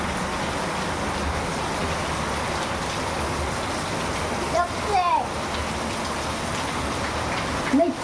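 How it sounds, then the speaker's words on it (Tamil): Heavy rain pours down outside a family home during Diwali, a dense, steady roar of downpour with a few brief squeaks and knocks on top and voices faintly in the background. "இன்னும் இப்படி அடின்னு அடிக்குது மழை."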